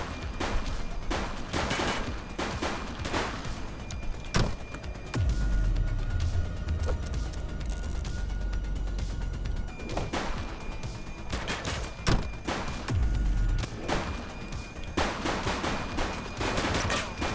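Gunfire in a police video game, The Precinct, fills the scene with repeated sharp shots, some in rapid bursts, alongside deep rumbling impacts and a steady loud background.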